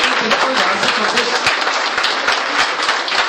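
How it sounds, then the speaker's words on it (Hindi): A crowd claps to welcome guests at a local ward gathering, with a steady roll of applause punctuated by sharper individual claps and some voices mixed in. "तो तालियां बजाए, तालियां तो बजाए।"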